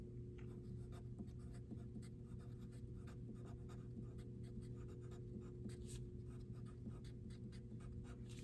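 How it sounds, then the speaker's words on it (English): Pen or marker writing capital letters on a paper light plot, a steady close scratching with short repeated strokes over a constant low background hum. "in the top, you're going to write in there, all capital letters, please"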